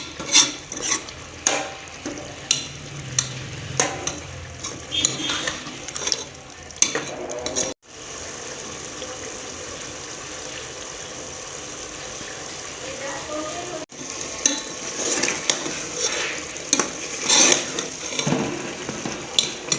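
Beef korma is stirred in a cooking pot with yogurt, giving steady scraping and clinking of the spoon against the metal pot over a sizzling background, with a person talking throughout.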